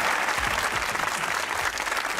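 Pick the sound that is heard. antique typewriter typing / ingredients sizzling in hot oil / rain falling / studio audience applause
studio audience applause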